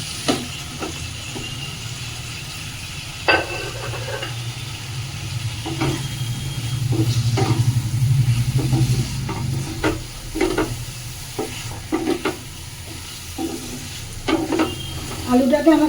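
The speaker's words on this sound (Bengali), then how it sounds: "মশলার মধ্যে দিয়ে দিচ্ছি ভেজে রাখা আলু" Fried potatoes stirred into spice paste with salt and sugar for a Bengali boal fish curry, sizzling steadily in the pan with repeated scraping clinks of the spatula, a low frying hiss throughout, no talking.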